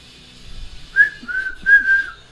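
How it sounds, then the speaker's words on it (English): A person whistles a short tune of several rising and falling notes, clear and close, alone without talk, during a football trading card box break. "Y'all know that whistle."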